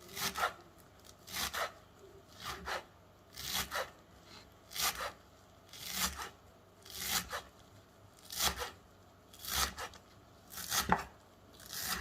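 A knife chops through bunched cilantro on a cutting board for fish tacos, making soft, rhythmic thuds and rasps about once a second, fairly quiet and with no talking.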